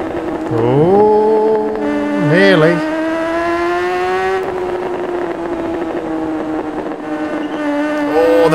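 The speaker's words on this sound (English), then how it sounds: "The tyres didn't like that. Could hear them squealing." Racing motorcycles in the RiMS Racing video game scream through a corner, loud rising and falling engine whine with a brief tyre squeal, close and continuous.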